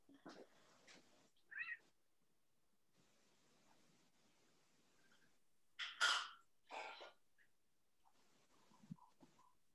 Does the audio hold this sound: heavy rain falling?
no